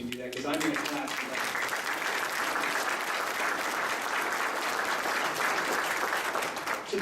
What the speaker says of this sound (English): so if you want to give another round of applause